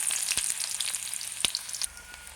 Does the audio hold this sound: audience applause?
no